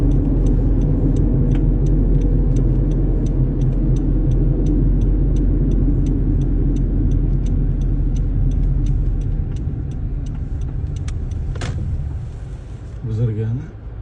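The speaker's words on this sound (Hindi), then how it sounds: "ये लाहौर मोटरवे है जी, शेखुपुरा से लाहौर को जाते हुए।" A car travelling fast on the Lahore motorway from Sheikhupura toward Lahore, heard from inside: a loud steady road and engine rumble with a regular ticking like an indicator, fading slightly near the end.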